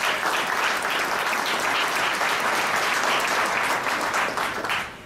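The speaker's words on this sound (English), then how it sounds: "please give them a round of applause." A crowd at a Camden mayoral address breaks into sustained, dense applause that stays loud throughout before tapering off at the end.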